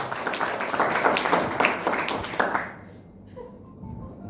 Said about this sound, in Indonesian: Tepuk tangan buat perubahan.